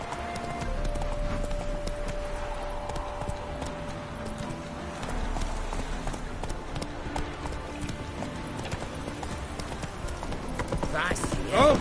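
Roach, the horse in The Witcher 3, trotting with steady rhythmic hoof clops under game music and ambience, while a voice speaks briefly over the hoofbeats.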